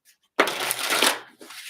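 Tattoo Tarot cards being shuffled in one loud, papery riffle lasting about a second, followed by a shorter, softer burst of card rustling.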